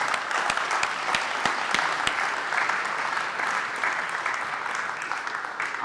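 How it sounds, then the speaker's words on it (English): Steady audience applause fills a conference hall, dense and sustained for several seconds, with a few sharper individual claps standing out near the front. "I think that really does deserve a big round of applause."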